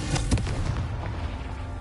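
A deep, rumbling blast from the Confringo fire spell in Hogwarts Legacy, a loud low boom with crackling burst at the start that rolls on and fades out.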